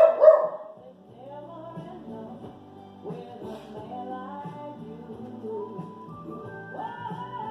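A pet dog in a home setting whines and yips in a rising, drawn-out series of vocal sounds that grows steadier, heard close and moderately loud with no talking over it.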